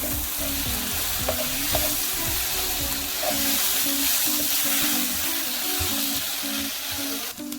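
Softened onions and lime peel frying in a pan for a chickpea chana, a loud steady sizzle with repeated scraping and stirring clatter throughout, close and without speech.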